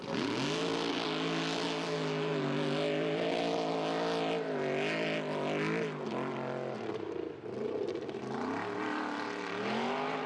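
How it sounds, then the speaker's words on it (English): Off-road race truck with a 460 cubic inch engine in an F-350 frame, roaring loudly and continuously, its pitch rising and falling as the throttle changes. "It's a 460 cubic inch dropped into a F-350 frame."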